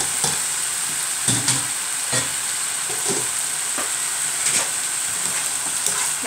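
Potato chunks are stirred in a sizzling pan for a mixed vegetable chicken dish, with a constant frying hiss broken by repeated scraping and clacking utensil strokes, close and without talk.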